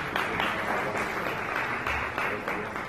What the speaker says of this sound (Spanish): por favor les pido un aplauso